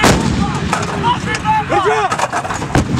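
Marine Corps artillery guns fire with a loud, sharp report and a rolling echo, while voices call out and talk in the background.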